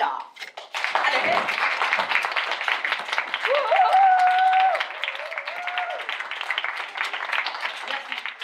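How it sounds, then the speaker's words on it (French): Theatre audience applause greeting a performer introduced on stage, a scattered patter that swells into steady clapping and then thins out, with brief vocal tones heard over it. "veuillez applaudir le grand Mirko"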